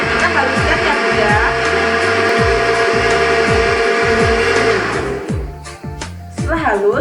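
A kitchen blender purees boiled vegetables with water, a loud steady whirring grind with a rhythmic chopping pulse throughout that dips and changes near the end.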